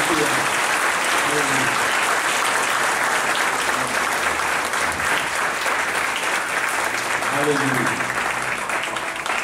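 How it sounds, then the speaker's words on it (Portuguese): A church congregation breaks into sustained, dense applause that fills the space evenly for nearly ten seconds, while a voice speaks over the clapping. "eu quero que você possa aplaudir a Deus pela vida do Bruno"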